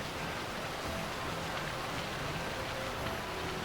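Steady, faint rainfall in the video game Final Fantasy XII: a soft, even wash of falling rain with no voices over it.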